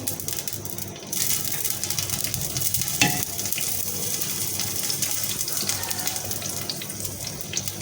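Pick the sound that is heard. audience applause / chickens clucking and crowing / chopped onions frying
chopped onions frying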